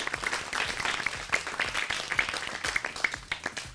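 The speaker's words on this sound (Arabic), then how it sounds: "صفقوا له" An audience at a children's studio show claps for a young contestant, a fairly quiet, steady patter of hand claps with individual sharp claps standing out, continuing throughout without talk.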